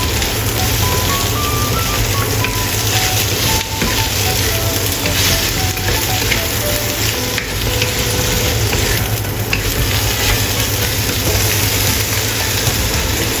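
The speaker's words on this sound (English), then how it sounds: "Add okra and stir-fry." Okra stir-frying in a hot wok gives a steady, loud sizzle that runs unbroken throughout, with faint scraping and tossing underneath and no talking.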